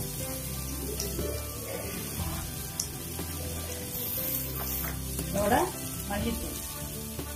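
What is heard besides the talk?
sautéing chili and coriander powder for ridge gourd curry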